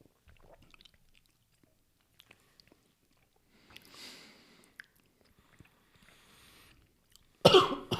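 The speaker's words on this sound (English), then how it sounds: "That was the first cough we've had" A single sharp, close cough bursts out at the end after mostly quiet moments with faint chewing and small mouth sounds, during a whiskey tasting.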